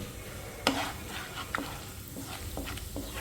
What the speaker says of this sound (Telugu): పోపు గింజలు కూడా ఫ్రై అయిపోయాయి కదా